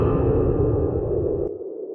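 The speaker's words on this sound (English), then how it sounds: "if I go add the reverb effect, for example, to the master volume, I mean to the master audio bus, and then I play a sound, for example, this sound will now have reverb" A game sound played through the Godot engine's master audio bus with a reverb effect, a loud tone that cuts off sharply and leaves a short reverberant tail dying away.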